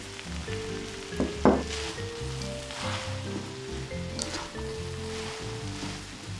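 Rice vermicelli being stir-fried with cabbage in a wok, giving a continuous sizzle with a few louder scraping stir strokes near the start, close and moderate in level.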